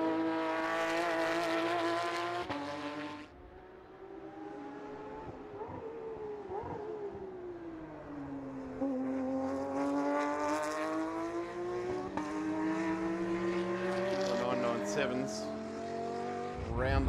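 Porsche production race cars battle on the Sydney circuit during the Sydney 240, engines roaring and shifting through rising and falling revs as they pass, fairly distant with crowd and track ambience around them.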